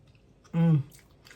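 A single wet chewing bite on cooked Jamaican oxtail, close and brief, surrounded by faint room noise.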